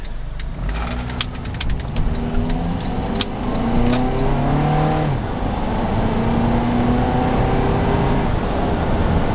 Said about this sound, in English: So we'll go ahead and do a quick acceleration run here.